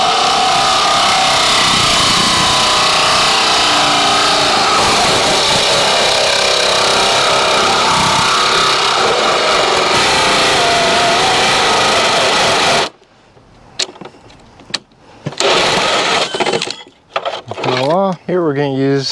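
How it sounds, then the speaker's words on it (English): Hole saw cutting through a Jeep Gladiator body panel for an AEV snorkel, a loud continuous grinding whine for about thirteen seconds, then quiet with scattered clunks and brief speech. "All right, now we can go get our hole saw."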